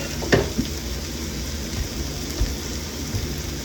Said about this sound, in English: we're going to keep cooking our fajita shells